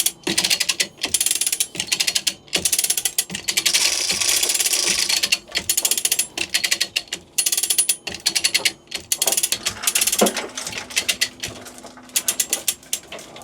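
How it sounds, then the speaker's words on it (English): A ratchet hoist clicks in rapid bursts of pawl ratcheting while lifting a seized Volvo Penta marine engine, the metallic clatter starting and stopping repeatedly, with a chain rattle partway through. "So it's on that ratchet now? Ratchet a bit."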